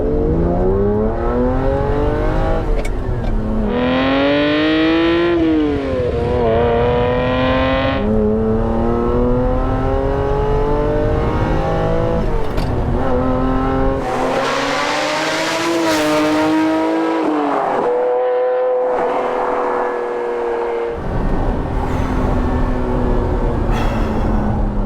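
A Ferrari F512 M, the last Testarossa with its flat-12, revs hard on the move, its loud engine note climbing and dropping through repeated gear changes with sharp throttle lifts, heard close up and alone.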